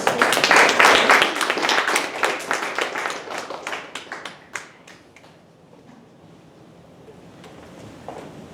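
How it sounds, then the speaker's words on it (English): An audience at a school English speech contest gives a round of applause, a dense burst of close clapping that thins into scattered claps and then dies away, with a few quiet sounds afterward. "Let's give them a round of applause."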